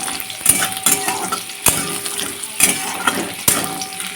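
Lentil dumplings (bori) fry with spinach over a lowered gas flame: a soft, steady sizzle close by, punctuated by several sharp scraping stirs of a utensil against the pan, spaced roughly a second apart.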